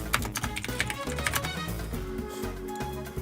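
Rapid typing on a computer keyboard clatters in quick irregular bursts during a livestreamed video game randomizer session, layered over busy game music and sound effects.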